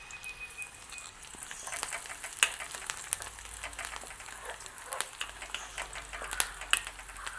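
Curry leaves frying in hot oil give a soft, steady crackle with scattered sharp little pops, faint and close, with no talking.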